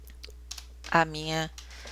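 Light, scattered clicks of typing on a computer keyboard while entering an SQL insert command, with a short voiced sound from a person partway through.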